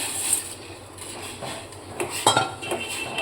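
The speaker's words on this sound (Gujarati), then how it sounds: "હવે આપણે સેવ નાખીશું" Wheat sev dropped into a pot of boiling water with a spoonful of oil, giving light metallic clinks and knocks of utensil against pot over a steady bubbling hiss, no talking.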